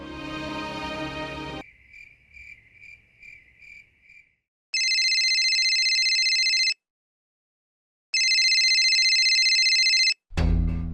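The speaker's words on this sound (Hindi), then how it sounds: "फोन उठा बल्लू।" An electronic phone ringtone sounds in two long, steady bursts separated by silence, after a short chirping melody; loud and close.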